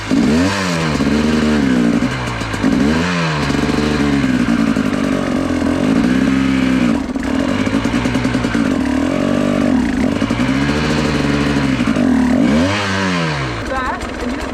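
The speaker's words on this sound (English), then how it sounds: "you got to be able to spin the throttle while applying pressure on the brake" A motorcycle engine revs repeatedly while the front brake is held, giving rising and falling throttle blips in a steady rhythm, loud and close, with a continuous rough idle between revs.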